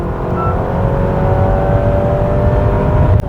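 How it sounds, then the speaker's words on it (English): A Honda CR-V hybrid in sport mode revs its engine in a loud, sustained rising hum with a steady tonal whine, heard close from inside the car, with no talking. "Step on the pedal and you get treated to an engine sound."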